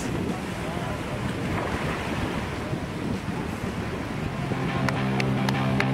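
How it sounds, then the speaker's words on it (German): Strong wind buffets the microphone while side-on waves slap and wash against a board on Lake Constance, a steady dense roar throughout, with a few faint tonal sounds near the end. "Wind direkt von der Seite, dadurch Welle direkt von der Seite."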